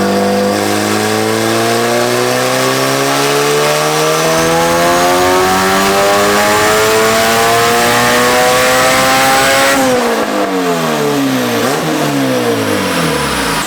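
A turbocharged Honda B18C car revs hard on a dyno, its engine pitch climbing steadily for about ten seconds to a loud howl, then dropping sharply as the throttle closes, with no talk.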